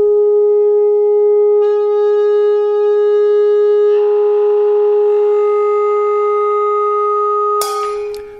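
A loud, pure resonant tone plays at a wine glass and holds steady for several seconds, with harmonics building before the glass shatters in a sharp, bright burst at the end.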